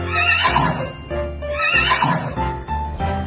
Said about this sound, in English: We have a horse. The horse makes.